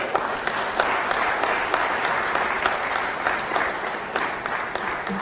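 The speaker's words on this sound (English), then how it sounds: "Karibuni sana, please stand up, give them a round of applause" Applause from the audience at a manufacturers and suppliers annual general meeting in Dar es Salaam, welcoming foreign manufacturers: steady, dense clapping from a large crowd, loud and continuous throughout with no speech.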